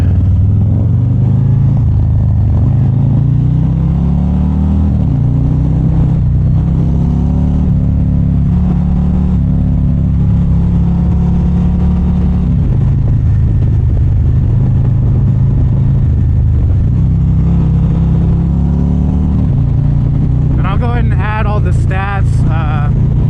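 A 2024 Harley-Davidson Street Glide rides in the rain, its engine note a steady loud low rumble that rises and falls with throttle changes, close and continuous, with a brief higher whine near the end.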